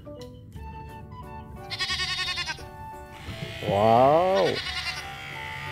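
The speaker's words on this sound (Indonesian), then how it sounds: "ini domba ya teman-teman." Sheep bleating near a livestock truck, one long wavering bleat rising and falling at close range, with a shorter call nearby and a person briefly exclaiming in the background.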